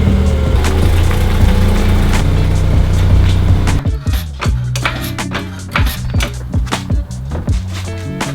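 A car rolls into a home garage with a steady engine hum that gives way to a run of bumps and knocks from the tires crossing uneven ground.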